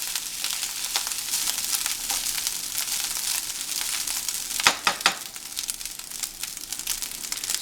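Rice frying in hot oil in a pan for Nigerian party fried rice, a steady close broadband sizzle throughout with a few sharper crackling stirs near the middle, no voices.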